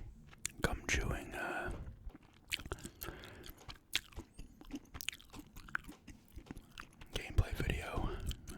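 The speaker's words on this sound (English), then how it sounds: "gum chewing" Gum chewed close to the mic, with moist smacking and clicking bites at an irregular pace, interspersed with soft whispering.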